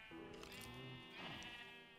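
A Minecraft sheep gives two drawn-out, wavering bleats in quick succession, clear and close with a quiet background, the second call slightly brighter than the first.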